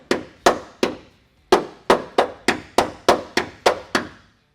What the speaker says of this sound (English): This hammer is not hammering so well.